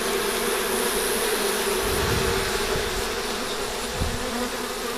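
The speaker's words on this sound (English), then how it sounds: "Lots of bees." Many honey bees buzz around a honey extractor, a thick constant drone of wings close by, with a few soft low bumps underneath and no voices.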